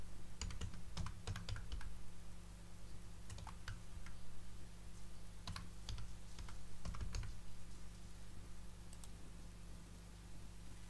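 Someone types Python code on a computer keyboard, with scattered clusters of crisp key clicks over a steady background hum and no talking.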